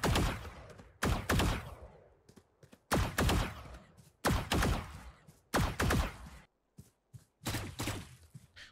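Gunfire in Valorant, several loud, close bursts of rapid shots separated by brief gaps, each burst ringing out with a sharp crack before dropping away.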